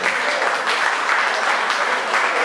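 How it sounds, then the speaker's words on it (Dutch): Crowd applause at an outdoor nature run prize ceremony, a steady, dense clapping of many hands filling the whole short stretch without pause. "applaus zou ik zeggen"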